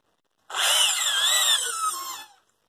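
A Makita 9.5 drill drives a screw in one continuous whirring burst of about two seconds, close and loud, rising and falling slightly in pitch before it winds down; no one talks over it.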